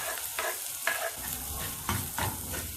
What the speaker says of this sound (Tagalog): Saute this until they are cooked.